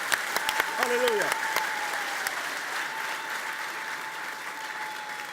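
Applause and cheering from a church congregation honoring the Lord, a dense steady wash of clapping through the whole stretch, with a few sharp voice-like calls near the start before it settles into even, moderately loud hand-clapping.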